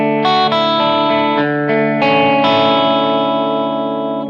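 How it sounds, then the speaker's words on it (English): Electric guitar through an amplifier set clean with a slight edge of distortion, lightly picked notes and chords ringing loud and warm, one after another, with the last chord sustaining and slowly fading. "There's an edge of distortion there, but I still perceive this as a clean sound, a clean and fat sound."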